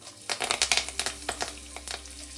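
Chana dal, cumin and curry leaves fry in hot oil, producing a quiet series of crackling, popping spatters that fade toward the end.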